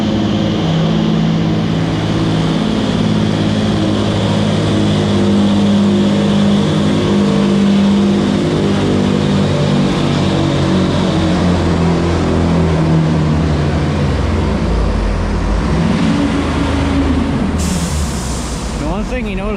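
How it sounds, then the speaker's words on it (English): A pulling tractor's engine roars at a county fair tractor pull, loud and sustained with a deep droning pitch that shifts and sags toward the end, with voices faintly audible in the din. "That tractor right there is turned up."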